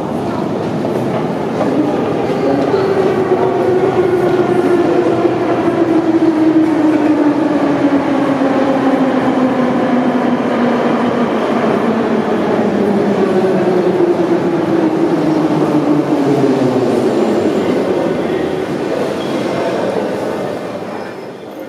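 A metro train in a deep underground station in Kiev rumbles loudly and continuously with a rising and falling whine as it moves through. The sound is close and steady, and its pitch slowly drops as the train slows, with no talking.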